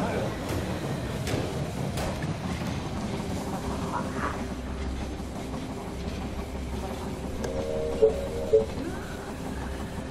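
A low, steady rumble of a train rolling into a station in the video game They Are Billions, with rhythmic clatter and a couple of short mechanical tones near the end.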